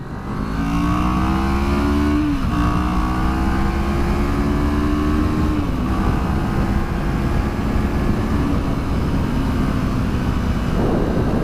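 A 2015 CFMOTO 650NK motorcycle accelerates hard in second gear, its engine note rising steadily, dipping briefly at a shift, then climbing again, loud and close with constant wind rush and no talking.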